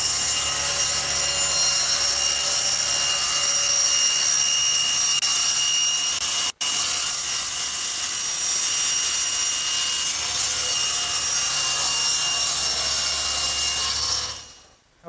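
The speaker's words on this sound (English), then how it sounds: "I like to use the table saw. And by using the fence as a guide and slowly plunging the piece over the blade, I can cut out my slot" Table saw blade steadily plunge-cutting a slot through a wooden workpiece guided by the fence, a loud continuous high whine lasting about fifteen seconds with one brief break midway before spinning down at the end.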